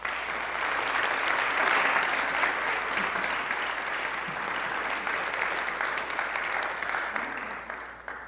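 An audience at a political forum at ITAM in Mexico applauds a speaker's introduction with full, steady applause that holds for several seconds and then thins out at the end.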